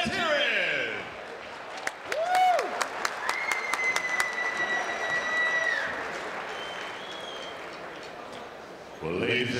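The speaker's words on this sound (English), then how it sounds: "Give a round of applause for these warriors." Crowd at an amateur catchweight fight night bursting into applause for the fighters, a dense wash of clapping with sharp whistles and cheers, while an announcer's voice carries over it before the clapping dies away.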